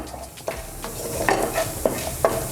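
Mustard seeds, cumin, urad dal and chana dal frying lightly in a pan for buttermilk rasam, giving a soft continuous sizzle with scattered pops and stirring clinks, close and moderately loud.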